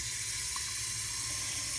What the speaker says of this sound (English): So you just get the water going.